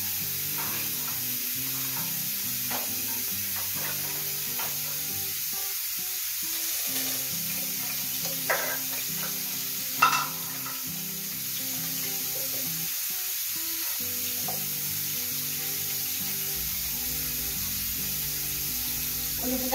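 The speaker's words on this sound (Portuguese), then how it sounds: "depois vou fritar" Food frying in a pan during a home-cooked Mother's Day lunch, a steady, close hiss and crackle of sizzling oil that runs unbroken for about twenty seconds with faint occasional clinks and no speech.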